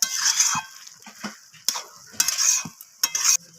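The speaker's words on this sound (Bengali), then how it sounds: "তো চিনিটা দিয়ে আমি আবারও নাড়াচাড়া করে নিচ্ছি" Cabbage curry with added sugar being stirred in a pan, a spoon scraping in quick separate strokes over a soft sizzle, close and fairly loud with brief pauses between strokes.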